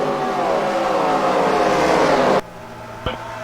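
A race car engine from a 2003 racing video game drones in a loud, steady whine with shifting pitch, then cuts off abruptly, followed by a brief sharp blip.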